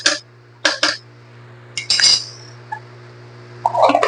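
A metal spoon clinks several times against a container while chilli powder goes into homemade Tamil-style sambar, giving a few short, bright taps and scrapes over a steady low kitchen hum.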